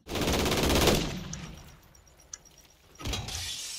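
Automatic fire from the JAK Burnout kit gun in a video game: a dense, loud rattling burst that fades, then a second burst starts near the end.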